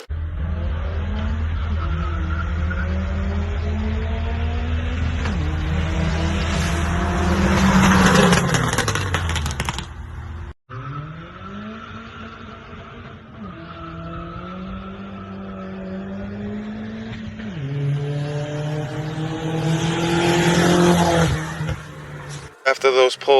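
Car engines roaring through hard acceleration runs with a friend's boosted, turbocharged Mitsubishi Lancer, rising and falling engine tones with gear changes, loud and close, with a brief cut midway and tire squeal hints.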